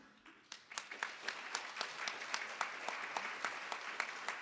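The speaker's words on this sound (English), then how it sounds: "give a round of applause to all of the speakers." Dense, steady applause from an audience at a hydrogen energy conference in Tokyo, many hands clapping together at a fairly even level for several seconds with no voices.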